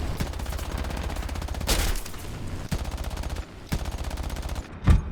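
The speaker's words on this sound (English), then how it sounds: "I can already hear them fucking cannons firing" Cannons fire in War Thunder around a Pe-2-83 bomber. Rapid bursts of gunfire crackle over a constant engine drone, with several louder distinct shots near the end.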